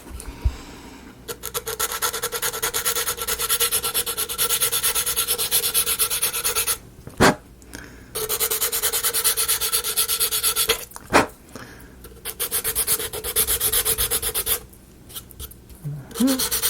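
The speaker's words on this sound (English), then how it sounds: "let's see if I can sand that down" Sandpaper rasps against a wooden book nook part in sustained rubbing bursts, broken by a few short pauses and sharp knocks, close and fairly loud.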